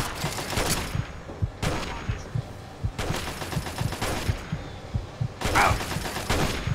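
Gunfire in the video game Fallout 3, several loud bursts of shots arriving in separate clusters with thudding impacts between them, close and harsh.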